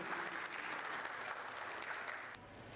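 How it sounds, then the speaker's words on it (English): An audience applauds to welcome a speaker onto the stage at a talk on quality control and quality assurance, a dense, steady round of clapping filling the room at moderate distance, easing slightly at the very end. "Can we have a huge round of applause and welcome him on the stage, please?"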